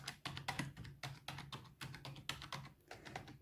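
Media keys on a computer keyboard pressed one after another in an uneven rhythm, producing quiet, close, clicky taps with short gaps between them.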